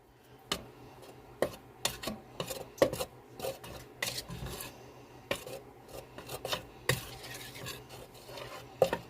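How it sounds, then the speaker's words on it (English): Seasoning is stirred into flour in a bowl with quick, dry scraping and rubbing strokes in an irregular rhythm, close and fairly quiet, with no talk. "Stir the seasoning up."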